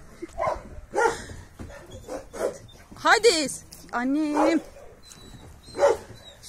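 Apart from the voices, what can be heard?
dogs barking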